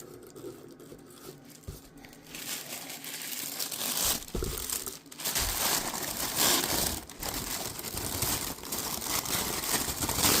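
Crinkly packaging is pulled apart and crushed close by, a long stretch of dense rustling and crackling that grows louder and rougher partway through, with no voices.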